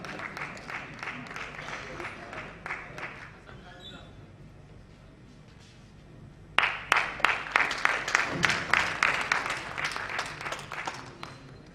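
An audience at a poetry gathering (mehfil) applauds to welcome poets, with bursts of clapping, a lull, then louder sustained applause, while a host's voice speaks over it.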